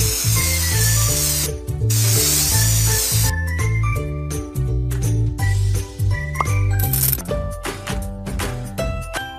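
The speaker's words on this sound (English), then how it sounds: "Choose the color you like and spray it." A spray-paint hiss from a kids' hair salon game, coloring a baby animal's hair, sounds in repeated bursts over a bright, busy music loop with tinkling chimes.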